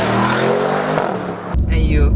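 A BMW M550i xDrive V8 engine is cut off by a sharp exhaust pop after an upshift off throttle. Loud engine noise runs first, then a short crackle, with a low rumble underneath.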